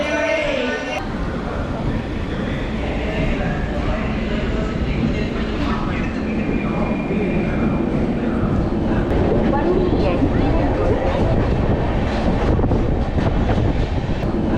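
A Chennai–Mangalore superfast train pulls out of Salem Junction station, wheels rumbling and carriages rattling steadily with wind buffeting the microphone, the clatter slowly building as it gathers speed.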